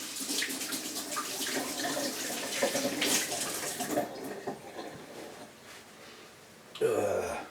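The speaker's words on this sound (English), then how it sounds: "I'll wash my hands." A tap runs steadily while hands are washed in a home kitchen, the water splashing softly and unevenly, with a louder gush at the end as the flow changes.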